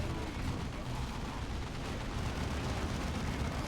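A grenade blast in the strategy game Dawn of War 2, heard as a dense, continuous wall of rumbling explosion and battle noise that stays loud for the whole stretch without a break.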